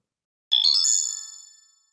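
A bright notification bell effect: a quick cluster of high metallic chimes struck in rapid succession, ringing out clearly and decaying smoothly into silence within about a second.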